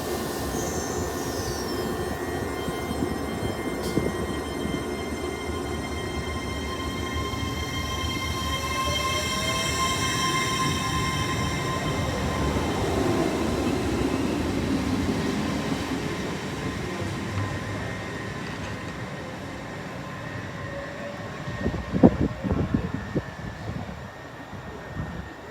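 An LNER Azuma passenger train from Glasgow Central to London King's Cross runs through Newark Northgate station, a long steady rumble and rising whine that swells and fades. A sharp clatter comes near the end.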